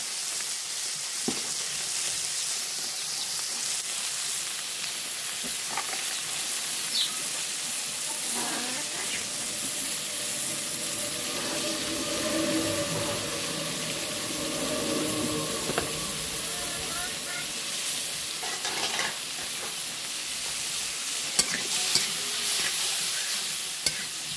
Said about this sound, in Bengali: কষিয়ে নিব মাছটা।